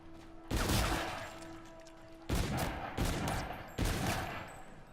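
Gunfire in the zombies mode of the video game Call of Duty: Infinite Warfare, several loud sharp bursts of rapid shots separated by short pauses, each fading into a brief echoing tail.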